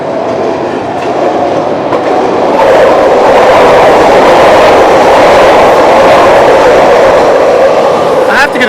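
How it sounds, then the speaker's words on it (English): A Chicago elevated train passes close by with a loud, sustained roar and rattling wheels, and faint squeals near the end, while a voice speaks over it. "I have to get a shot of the train every time it goes by the way."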